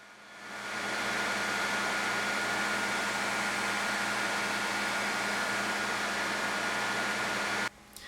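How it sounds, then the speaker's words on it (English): A grinder ramps up and then roars steadily while bevels are ground on a knife blade, a loud broadband hiss with a low hum, continuous and close before cutting off abruptly near the end. "Then it's time to grind the bevels."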